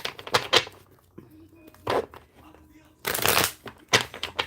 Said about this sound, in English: Get a good shuffle going.